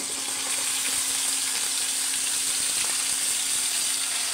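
Pork goes into a pan of frying garlic and onion for menudo and gives off a steady, close, even sizzle that holds at the same level throughout, with no talking.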